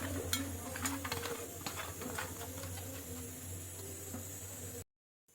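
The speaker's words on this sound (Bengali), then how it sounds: "নুন হলুদ মেখে এবার ভেজে নিচ্ছি" Fish rubbed with salt and turmeric frying in oil in a kadai, a soft continuous sizzle with scattered crackles and clicks under a low hum, ending abruptly.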